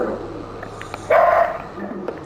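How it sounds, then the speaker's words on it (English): Luna, a small farm dog, gives a short yappy bark or two at something outside, a brief sharp burst standing out over low background hum. "Apologies for her little barking"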